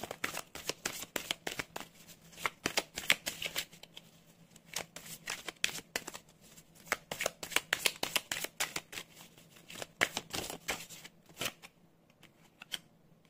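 Oracle cards for a love and astrology reading are shuffled by hand close up, a continuous run of quick riffling flicks and soft slaps lasting several seconds before trailing off.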